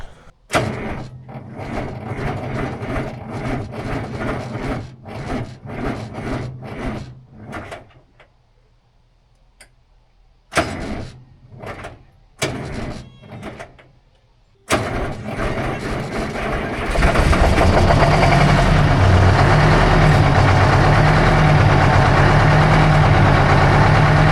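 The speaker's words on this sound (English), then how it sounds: "So let's see if we can get a cold start out of it." Cold start of a 1969 Peterbilt 359 little-window truck: repeated loud clattering bursts of cranking, broken by quiet pauses, then the diesel engine catches and settles into a loud, steady, rumbling idle close by.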